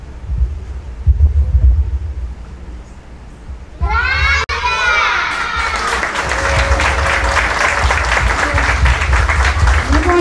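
An audience applauds children performing a school play at a primary promotion ceremony: a low rumble and children's voices at first, then clapping swells in and builds into loud, sustained applause.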